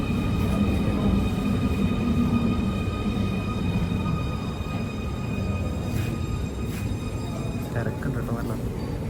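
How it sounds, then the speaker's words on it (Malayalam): A Munich U-Bahn subway train at a busy underground station, a loud continuous rumble and roar with steady tonal whine above it, nearby and sustained, with a voice faintly present beneath. "ഇതാണ് ഊബാൻ."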